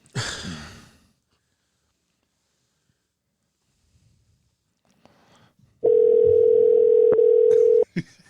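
A telephone calling tone sounds as a single steady two-second beep after near silence, preceded by a brief breath-like noise at the start.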